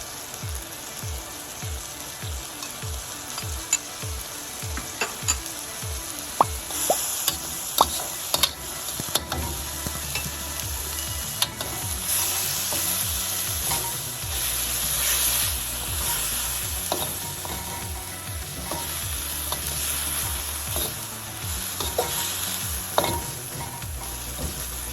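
Rice noodles stir-fry with a soy sauce mixture for homemade spicy Singapore noodles, loud close sizzling and frying under repeated scraping and tossing strokes of a utensil against the pan, continuous with no speech.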